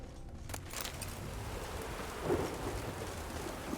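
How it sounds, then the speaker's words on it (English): Steady drizzling rain in a video game falls as a constant soft hiss and patter, with a brief louder splash or rumble midway and no talking. "it's drizzling."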